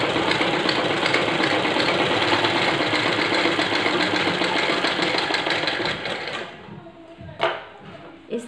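A sewing machine runs continuously while stitching baby bloomers, a steady mechanical whirr that stops near the end, followed by a couple of small handling knocks.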